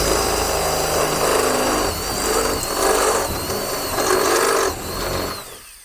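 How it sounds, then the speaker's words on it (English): A power drill bores through three layers of metal in the bonnet of a BMW 3 Series E46 race car, a loud steady whine with rising and falling pitch that stops near the end. "I'm going to drill through."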